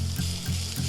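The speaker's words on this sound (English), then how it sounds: "now I'm just gonna add those mushrooms," Sliced mushrooms sauté in melted butter and olive oil in a pan, a soft continuous sizzle with a low steady hum and faint stirring scrapes, fairly quiet and without any talking.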